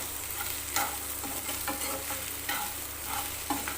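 Okra dry-fries in a pan with no added liquid, a steady hissing sizzle broken by regular scraping stirs of a spatula every half second or so, close and even in level, with no one speaking.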